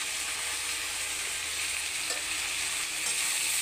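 Kashmiri chilli colour masala sizzles and fries in a pan as it is stirred, a steady close hiss with no voices.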